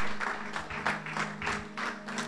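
A church congregation claps along in a steady rhythm, about eight or nine even beats over a couple of seconds, moderately loud with a low hum underneath.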